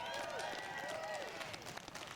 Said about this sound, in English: let's give Chilliwack a round of applause for that